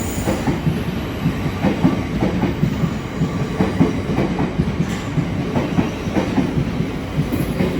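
A Thameslink Class 700 train, the Brighton to Bedford service, pulls into a London terminus with steady rumbling and repeated clickety-clack of wheels over rail joints, close and fairly loud throughout.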